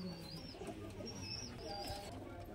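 Najra pigeons in a quality loft, low cooing and scattered chirps over a constant background hum, with brief fluttering.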